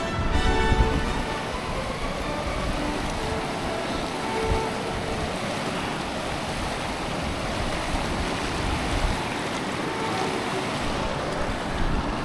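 Floodwater of the St. Francis River rushes in a steady, broad roar, with gusts of wind buffeting the microphone and no one speaking.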